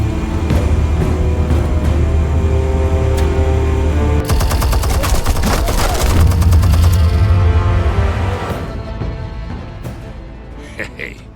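Automatic gunfire and a booming burst crash through a Batman: The Telltale Series game scene, loud and dense over a steady rumble of score, with a voice speaking under the shooting before the racket thins out toward the end.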